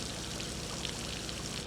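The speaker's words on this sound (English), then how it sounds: "Could you tell how much rain it's raining? It's raining all right," Steady rain pours down and runs into puddles outdoors, a dense, even wash of splashing water that holds constant throughout with no voices.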